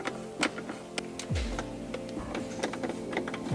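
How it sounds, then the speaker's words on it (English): Four T20 screws are backed out of a BMW phone mount with a driver, giving small close ticks and clicks scattered throughout and a brief whirring sweep near the middle, all fairly quiet with no voices. "it's 4 T20s, I believe. Just go ahead and back those out."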